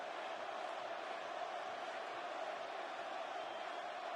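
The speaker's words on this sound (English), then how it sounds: "you can hear the crowd cheering for Hulk" A large wrestling arena crowd at WrestleMania cheers for Hulk Hogan, a steady roar of many voices that carries on without a break at even loudness for the full length.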